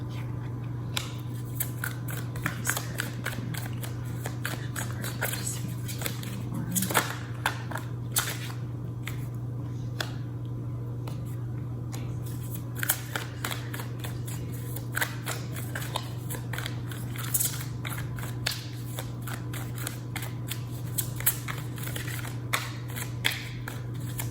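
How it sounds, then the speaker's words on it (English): A deck of tarot cards shuffled by hand during a card reading gives steady, crisp riffling and slapping sounds throughout, close and continuous over a constant low electrical hum, with no talk. "just so y'all don't have to sit and watch me shuffle"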